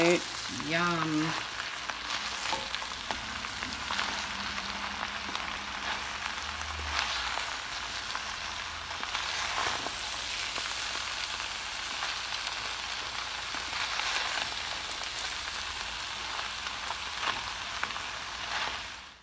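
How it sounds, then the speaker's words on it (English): A pot of keto chili with cut peppers and jalapeno simmers and lightly sizzles, a soft, even hiss with faint bubbling that holds steady throughout, with no voices. "the chili is just simmering away"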